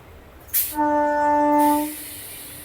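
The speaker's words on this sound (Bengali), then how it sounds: "তারকেশ্বর ঢোকার আগে এই একটা ট্রেন ক্রস হলো" A train crossing just before Tarakeswar on the Howrah–Tarakeswar local line lets out a single loud, sustained horn blast of about a second, close by, right after a brief burst of noise.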